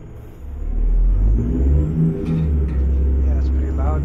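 A Peterbilt 389 truck engine in American Truck Simulator, hauling a triple lowboy, drones loudly from inside the cab as a deep, steady rumble with a slight rise in revs.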